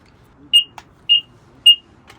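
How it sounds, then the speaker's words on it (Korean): An alarm device beside a camping heater gives three short, sharp electronic beeps at an even rhythm, close and clear against a quiet background. "항상 우리 쓰는 경보기."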